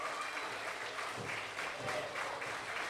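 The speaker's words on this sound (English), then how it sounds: "This crowd here in Hamilton, they're trying to rally behind the Perminator." A wrestling crowd in Hamilton keeps up steady, distant applause and cheering, a continuous wash of clapping with faint rhythmic swells as the audience rallies.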